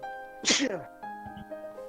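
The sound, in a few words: sneeze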